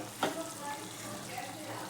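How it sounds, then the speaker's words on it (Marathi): Hot water pours steadily into a pan of drumstick vegetable curry as a continuous hiss, with a brief splash near the start. "आता मी पाणी ओतते. पाणी ओतत आहे मी."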